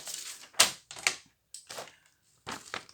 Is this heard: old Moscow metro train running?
no